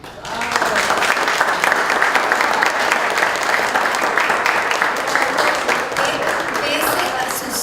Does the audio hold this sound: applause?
yes